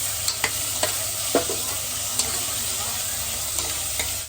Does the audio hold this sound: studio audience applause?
no